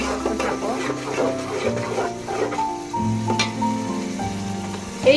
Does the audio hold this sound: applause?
no